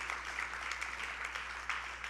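Applause from attendees at a conference plenary session, a steady moderate patter of many hands clapping throughout, fairly quiet and without talk.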